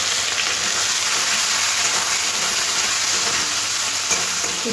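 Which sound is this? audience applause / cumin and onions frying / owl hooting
cumin and onions frying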